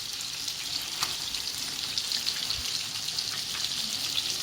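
Meatballs sizzle in hot sauce in a pan, a steady, close frying hiss with faint crackles and a soft plop or two as they go in, no voices.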